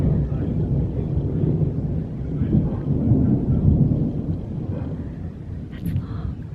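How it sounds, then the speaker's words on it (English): Thunder from darker storm clouds rolls in as a long, low rumble that swells and fades, fairly close and steady with no talking. "Oh man, and thunder."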